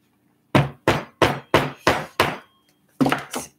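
A hammer strikes the tail of a handmade wooden model plane, six sharp evenly spaced knocks followed by a short pause and two more, loud and close with silence between.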